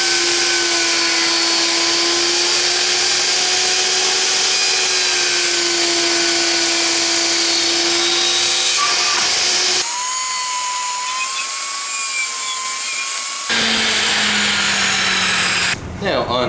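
A loud, steady power saw whines continuously, its pitch shifting as it cuts cheeseboard legs at a 26-degree angle through wood, with brief pauses between passes.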